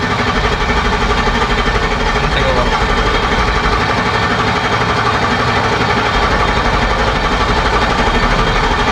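Ford 6.0L Powerstroke diesel truck engine fitted with oversized injectors runs steadily, a continuous loud rumbling idle with knocking texture throughout, with faint voices in the background.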